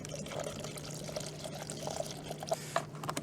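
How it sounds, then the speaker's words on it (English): Coolant gurgles and bubbles steadily through the engine cooling system of a Toyota Prius with the radiator cap off, a soft continuous liquid burble with small irregular pops over a low hum. "It's gurgling a lot, which is a good sign."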